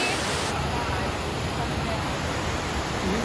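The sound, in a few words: rushing water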